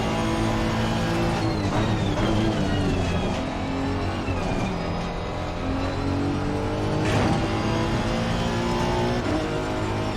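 A race car engine in a racing video game drones continuously, rising and falling in pitch as it revs and shifts through gears on an early lap, loud and steady throughout.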